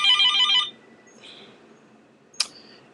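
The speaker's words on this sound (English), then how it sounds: "you're going to have to listen to my phone for 5 seconds" A phone rings with a bright electronic tone, one loud burst at the start and then a sharp short blip near the end, in an otherwise quiet room with no talking.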